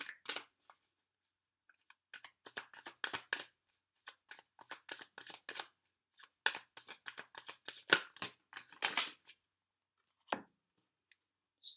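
Tarot cards shuffled and handled in quick papery bursts, riffles and slaps clustered with short pauses between them, close and clear with no talking.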